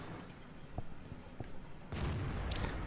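A tank gun fires in the World of Tanks game, an Obj.140 loosing a blind shot: a sudden broadband boom partway through that rings on under a steady engine rumble, followed by a second sharper crack, fairly near.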